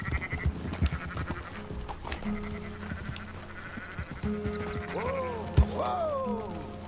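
Sheep and goats bleating in the open-world game Red Dead Redemption 2, with several wavering calls near the end over a busy background of game ambience and thuds.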